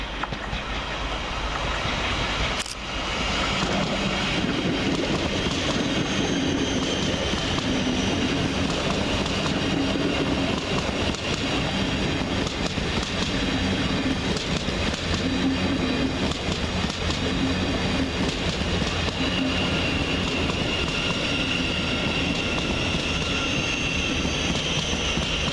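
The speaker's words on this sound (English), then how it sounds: "arriving now is the next Thameslink service to terminate from Horsham" A Thameslink Class 700 electric train pulls into Peterborough station, a continuous rolling rumble with wheel clatter and brake hiss that holds steady and close throughout, with a single sharp click near the start.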